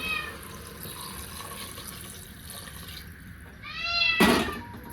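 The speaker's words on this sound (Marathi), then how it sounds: "इकडं पाणी मी गरम करून घेतलेलं आहे ते पाणी आपण ह्यात ओतून घेऊया पाणी गरमच आहे" Hot water poured into village-style chicken cooking in a pot, a brief loud splash and hiss near the end after a quieter stretch with a few high tonal squeaks.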